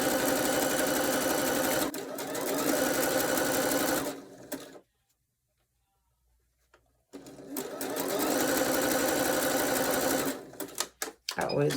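A sewing machine stitches fold over elastic in steady fast bursts. A loud run is followed by a silent pause, then a second run that tapers into a few short stops and clicks.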